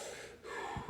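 A voice imitates Kussmaul breathing from diabetic ketoacidosis, giving a quick, deep, hissing breath and then a sharp lower gasp, close and fairly quiet.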